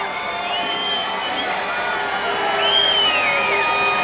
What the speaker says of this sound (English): Crowd has been chanting Duffy, Duffy, they're ready